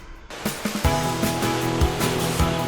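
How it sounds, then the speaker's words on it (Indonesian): Big ocean waves crash onto rocky coral reef along the East Java coast, a loud, continuous churning surge with repeated heavy impacts over a steady droning tone. "Musuh kita itu ombak yang gede, terus ada karang-karang yang siap melukai kita."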